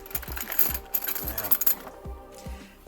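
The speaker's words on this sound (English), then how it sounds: "No, I gotta cut another key." Key cutting machine cutting a key for SFIC cylinders: a fast, rhythmic mechanical chattering and whirring at close range, steady pulses with brief pauses, no talk.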